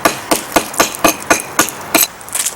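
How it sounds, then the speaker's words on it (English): A hammer strikes loose concrete on a driveway in a regular series of about nine sharp, close knocks, roughly four per second, with a faint low engine hum underneath. "you can see the stuff that's popping up with the hammer"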